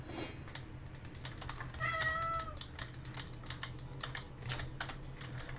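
A pet cat meows briefly in a room, a short rising-falling call rising over steady keyboard typing clicks and a low background hum.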